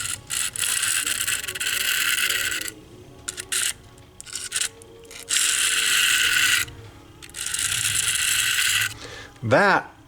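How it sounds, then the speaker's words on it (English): A razor blade scraper drawn across a new unnamed 400 grit diamond sharpening stone, giving loud, harsh rasping strokes in several long bursts separated by short pauses, close up with no talking. "our handy dandy razor blade scraper here, and you get to hear what it sounds like right off the bat"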